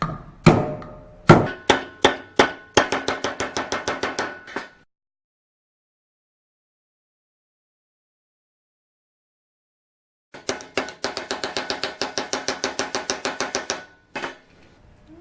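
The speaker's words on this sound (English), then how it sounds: "Grab our next dentist tool here, the old giant screwdriver." A giant screwdriver strikes an Auxbeam light bar in a crash test, first with a few heavy separate blows, then in rapid rhythmic bursts of sharp knocks, loud and close, with a long silent stretch between.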